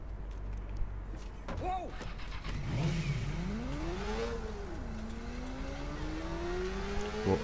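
Motorcycle engine in the Watch Dogs video game, revving and whining up and down in pitch as the bike accelerates, loud and continuous, with someone talking over it.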